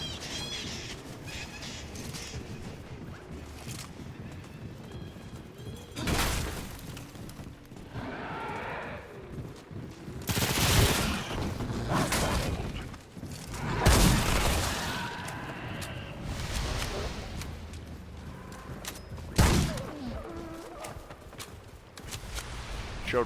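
Machine pistol gunfire in the video game Remnant 2, several sharp bursts scattered over ongoing game ambience, some shots loud and close with gaps between them.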